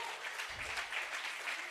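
An audience applauds a student social drama performance in a school hall, a brief dense burst of clapping that stays steady and fairly loud throughout.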